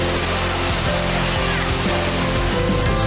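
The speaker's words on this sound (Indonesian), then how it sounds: "wisatawan menikmati air terjun bertingkat 7 yang menjadi daya tarik wisata pemandian alam AEK Sijorni" Seven-tiered waterfall at the Aek Sijorni natural bathing site in South Tapanuli, North Sumatra, roaring as a steady, dense wash of falling water that stays loud and unbroken throughout.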